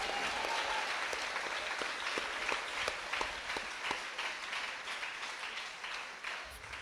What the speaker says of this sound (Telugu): చప్పట్లు కొట్టి ప్రభువును మహిమపరచండి